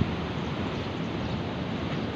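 Water rushing through a large canal roars steadily and loudly, a dense unbroken wash of noise, at the Thal canal head in Layyah district.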